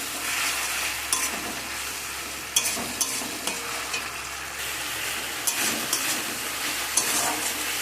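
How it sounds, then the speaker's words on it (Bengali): Spice paste mixed with tomato puree sizzles and fries in a pan while a spoon stirs through it, giving a continuous hiss broken by regular scraping knocks from the stirring, close and fairly loud with no talk. "দিয়ে সব কিছুকে ভালো করে একসাথে মিক্স করে মশলাটা কষিয়ে নেব"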